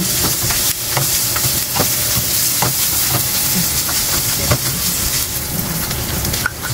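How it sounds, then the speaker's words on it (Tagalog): Garlic, onion and ground meat sizzle and fry in a pan for Peranakan-style kway teow, a constant loud crackle broken by scattered stirring clacks of a utensil, no talking. "gisa natin yung ating bawang sibuyas plus yung ating karne, yung giniling"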